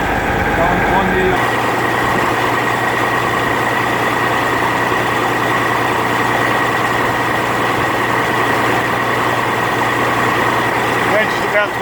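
A heavy boat engine idling at about 1200 to 1300 RPM with a steady low drone and constant hum, close by, running without change throughout.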